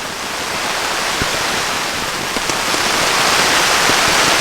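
Heavy rain pours onto a tent tarp at a camping site, a dense, loud, continuous hiss with scattered heavier drips and splats, and no voices.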